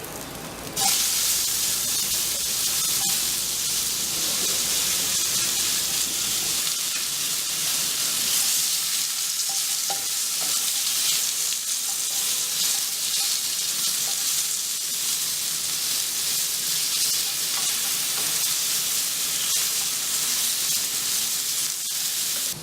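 Cut pumpkin pieces sautéing in a hot pan give a loud, dense, continuous sizzle and hiss that runs steadily throughout.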